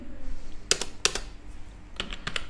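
Keys on a computer keyboard clacking in a few quick bursts, close and crisp, with short pauses between clusters of strokes and faint room hum beneath.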